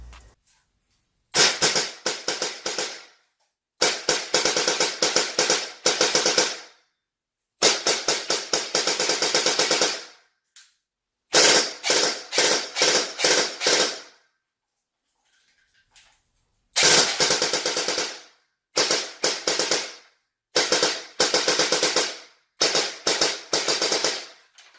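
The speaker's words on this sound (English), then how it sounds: "listening to this audio clip of my gun shooting" An upgraded airsoft gun fires in repeated full-auto bursts, each a rapid, sharp mechanical rattle lasting one to three seconds, separated by short silent pauses, loud and close with no talking.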